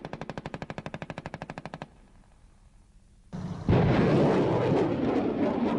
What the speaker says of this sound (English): the firepower the Bradley carries, the machine guns, the 25mm, provides great capability to do that